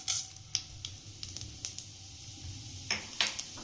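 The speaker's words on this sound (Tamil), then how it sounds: "கடுகு பொரிஞ்சிருச்சுங்க" Mustard seeds spluttering in hot oil in a tawa, a steady low sizzle broken by sharp crackling pops at irregular intervals, close and fairly quiet.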